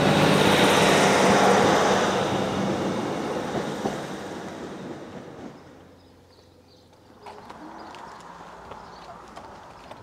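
A train moves along a railway line at a sunny country station. It rumbles loudly at first, then fades steadily into near quiet, followed by faint scattered background noise.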